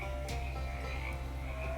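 Frogs croak in the Shadows Over Loathing video game, a dense, continuous chorus of low croaking set against a steady humming ambience, with no talk.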